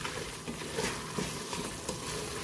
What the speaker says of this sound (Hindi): ये 3 मीडियम साइज के पोटैटो मैंने कट करके रखे हुए हैं, ये हम ऐड करेंगे और इसको अच्छी तरह से 5 मिनट के लिए हाई फ्लेम के ऊपर भून लेंगे।